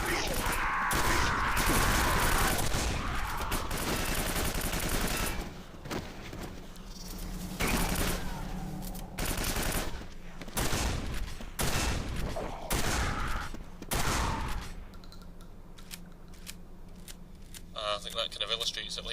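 Shotgun blasts in the shooter game Quake 4, heard as repeated loud, sharp bursts spread irregularly across the stretch, mixed with game effects and someone talking over the action.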